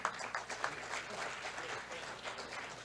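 Audience applause at a Korean AI forum inaugural seminar, a room of people clapping in a dense, steady patter that holds at even loudness for the whole stretch, with some background voices mixed in.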